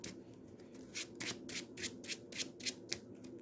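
A deck of Marvel Champions cards is shuffled by hand, a rapid series of about eight close, crisp riffling swishes in a steady rhythm, quiet overall.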